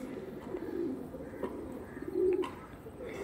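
Pigeons coo softly and repeatedly, a low murmuring rhythm that rises briefly in a couple of places, heard on its own without talk.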